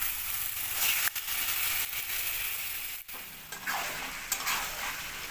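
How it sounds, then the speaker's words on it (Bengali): Marinated chicken sizzles in a spice masala in a pan while being stirred, a continuous hissing fry broken by scraping stirs and a couple of brief pauses. "এবার কেটে মেখে রাখা মাংসটা দিয়ে দেবো।"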